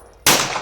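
A single sharp crack from a Taurus Curve .380 pistol with a 2-inch barrel, loud and close, with a short ringing decay.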